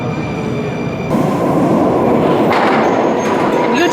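A Moscow subway train rumbles into the station, its roar and rattling wheels swelling loud and steady, with a rising metallic whine partway through.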